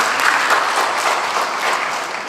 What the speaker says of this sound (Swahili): Pigia mama makofi.